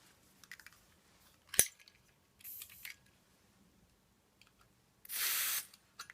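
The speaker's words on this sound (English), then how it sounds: "lets you refill your Zippo Blue type lighter" Butane from a camping gas cylinder is refilled into a Zippo Blue lighter: a sharp click, a short hiss, then a longer, louder burst of hissing spray, close and quiet between bursts.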